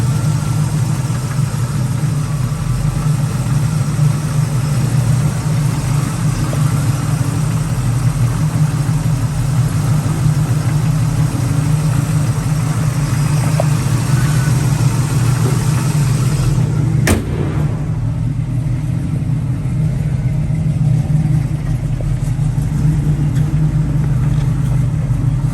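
A 1971 Chevrolet Nova V8 with headers idles steadily and loudly up close, a deep even rumble with no talk over it, broken only by one sharp brief click near the end.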